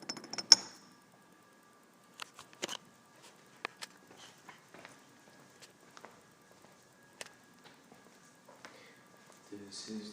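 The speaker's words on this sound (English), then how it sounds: "This is the sound of man walking on concrete." A man walks on concrete with scattered, uneven hard footfalls of varying loudness across about ten seconds, faint and close, with a low hum in the background.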